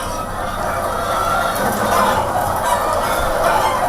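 A flock of chickens clucking together in a dense, continuous clamor, loud and close, with overlapping calls filling the whole stretch.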